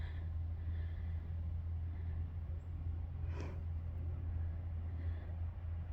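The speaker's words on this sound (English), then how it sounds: "I hear a lone truck, a lone vehicle over here somewhere." A lone truck passes somewhere distant beyond a snowy trail in Piney Run Park, a steady low rumble that holds for the whole stretch, with a brief faint higher sweep midway.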